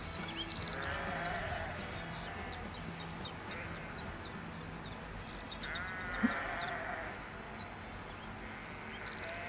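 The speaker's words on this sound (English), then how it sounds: "you hear the sheep and then you hear the birds" Sheep bleating in a song, several bleats over a steady bed of music with bird-like chirps, moderately loud throughout.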